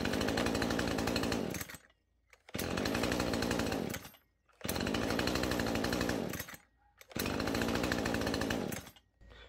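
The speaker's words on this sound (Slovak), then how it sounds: "Píla za tepla štartuje veľmi, ale veľmi pekne a ľahko." A warm Husqvarna 135 Mark 2 chainsaw of 1.6 kW runs close and loud, revved in four long bursts separated by brief drops to near silence.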